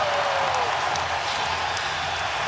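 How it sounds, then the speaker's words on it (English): Staples Center crowd at Game 7 of the 2010 NBA Finals between the Lakers and Celtics roaring in a dense, loud arena frenzy, a continuous wall of cheering with faint whistles poking through over a couple of seconds. "the Staples Center crowd in an early frenzy. They're as loud as we've ever heard this arena"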